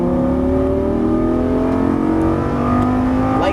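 Lamborghini Gallardo LP550-2 engine accelerating on a race track, a loud close-up rising engine note climbing steadily in pitch through the revs, heard alone without talk.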